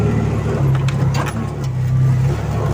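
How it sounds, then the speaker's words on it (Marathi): An auto rickshaw engine runs as the vehicle pulls away at night, giving a loud, steady, buzzing drone with a low hum and scattered rattles. "तर गाईज रिक्षा निघली फायनली."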